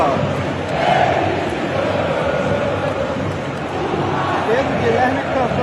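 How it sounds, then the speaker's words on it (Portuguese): Flamengo supporters sing together in the Maracanã stadium, a loud, dense crowd chant that fills the whole stretch without a break. "Pedro Guilherme cantando junto com a torcida"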